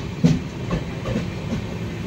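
A Ro-Ro train carrying dump trucks rumbles along with a low, continuous roll and faint rhythmic clatter of wheels on rail joints, heard from a moderate distance with a slight hiss.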